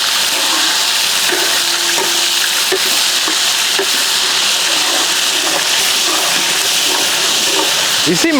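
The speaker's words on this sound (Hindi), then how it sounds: "ऑयल गर्म हो गया, इसी में हम लोग अदरक लहसुन का पेस्ट ऐड करेंगे।" Ginger garlic paste sizzles and fries in hot oil in a home kitchen pan, a steady loud hiss that runs throughout with faint stirring clinks.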